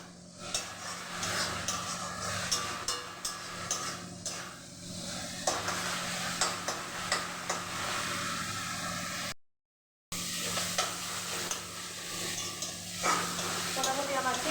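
Goat mince (keema) fries in a pan with a continuous close hiss and sizzle. Scraping and scuffing strokes from stirring repeat throughout, and the sound cuts out briefly once.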